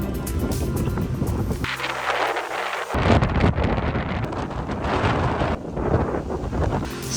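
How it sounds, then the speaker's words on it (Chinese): Strong headwind on a barren stretch of the Camino de Santiago in Spain, loud gusty wind buffeting the microphone with roaring surges and a sharp shift partway through, with no voices. "有没有听到崩溃的风声？"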